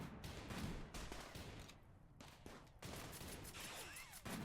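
Rapid gunfire volleys rattle through a RimWorld battle in a Dragon Ball Z mod, dense overlapping shots in bursts with short gaps, fairly faint throughout.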